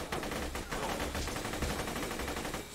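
Continuous rapid gunfire from a gun in a cartoon Mad Max–style vehicle combat game, a dense unbroken stream of shots under faint game noise.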